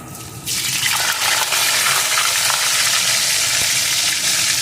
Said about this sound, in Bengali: এখন আলুটাকে একটু ভেজে নেব